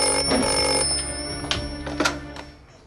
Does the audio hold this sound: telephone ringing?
yes